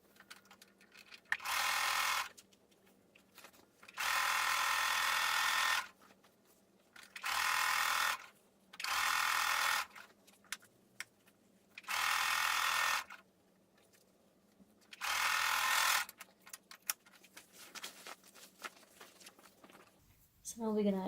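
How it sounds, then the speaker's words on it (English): A sewing machine stitches the sides of a denim skirt made from jeans, running in several steady whirring bursts of a second or two each, separated by short pauses, with quiet handling sounds between. "we'll sew our sides"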